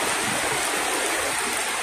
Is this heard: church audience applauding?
no